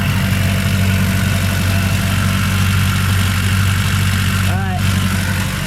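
A motor idles with its engine cover open, producing a loud, close, steady low rumble and hum that runs unchanged the whole time.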